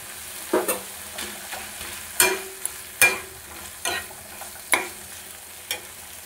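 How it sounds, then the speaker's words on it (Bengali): Small potato pieces frying in spiced oil for a green banana kofta curry, with a steady soft sizzle broken by several sharp scraping stirs of a spoon against the pan, close and clear. "মশলা থেকে তেল ছেড়ে এসেছে। এবার এর মধ্যে দিয়ে দেবো একটা ছোট্ট সাইজের আলু"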